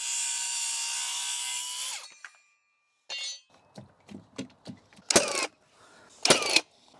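A power saw whines briefly as it trims the ends off timber noggins on a large shed floor frame, then goes quiet, followed by scattered knocks and two sharp woody bangs.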